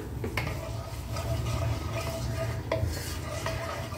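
Whole cumin, green cardamom, cinnamon pieces and two cloves frying in oil for malai seekh kebab, heard as a low, even sizzle under repeated metal spoon scrapes and taps against the pan, close and moderate in level, with no voices.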